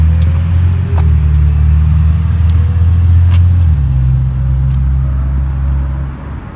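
A car engine rumbles low and steady in cold-weather Calgary, a continuous close drone whose pitch shifts slightly partway through before easing off at the end, with no talking.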